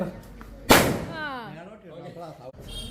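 A single sharp firecracker bang bursts loudly during Onam, followed by voices and a lingering crackle as the noise dies down.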